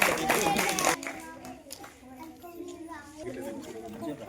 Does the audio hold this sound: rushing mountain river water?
no